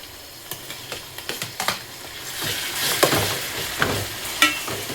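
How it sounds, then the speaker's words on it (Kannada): Tomatoes fry for egg bhurji while a spoon stirs and scrapes the pan, sharp tapping knocks landing irregularly over a constant sizzle that swells in the second half. Nobody speaks. "ಈಗ ಟೊಮ್ಯಾಟೊ ಎಲ್ಲ ಮ್ಯಾಶ್ ಆಗುತ್ತಾನ ನಾನು ಕುಕ್ ಮಾಡ್ತೀನಿ."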